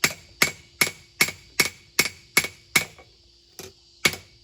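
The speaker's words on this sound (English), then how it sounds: "This anvil don't have much ring to it" Hammer blows on hot steel over an anvil with little ring, in a steady rhythm, about ten sharp metallic strikes, close and loud with a short pause near the end, during blade forging.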